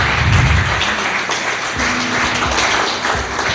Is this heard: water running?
no